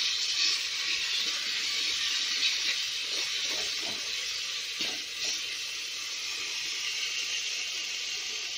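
Soya chunks frying in a spiced masala in a pan over a medium flame give off a steady, loud sizzling hiss throughout, with a few faint stirring scrapes in the middle.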